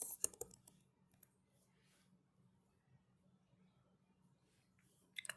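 A short burst of quick clicking keystrokes on a computer keyboard as a search is typed, then near silence, then another brief flurry of keys at the end.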